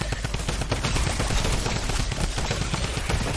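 Rapid, sustained minigun fire at a horde of zombies in Fortnite, a dense continuous rattle of shots running the full length at steady loudness with no talking.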